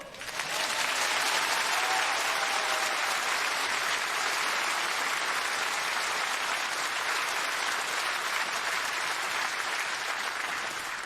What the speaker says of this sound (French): quand j'arrive sur scène, les gens m'applaudissent très fort